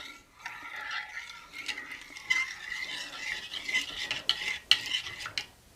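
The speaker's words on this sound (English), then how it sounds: "I'm just going to take a tablespoon of the espresso and just add that in, and then just give this a mix" A spoon stirs a tablespoon of espresso into boiled water in a bowl, giving close scraping and clinking scrapes in an uneven rhythm, with a few sharper taps near the end.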